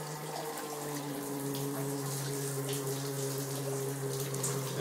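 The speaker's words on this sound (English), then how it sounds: "I'll flush the toilet also." Toilet flushing in a house with a plumbing fault, pipes vibrating hard enough to shake the shower and washer-dryer area; a steady rushing water roar with a low droning hum runs continuously throughout.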